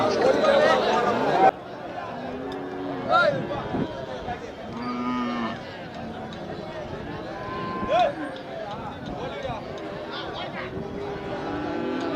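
Dairy cattle moo repeatedly at a busy cattle market, several drawn-out calls near and far over constant crowd chatter, with people talking throughout.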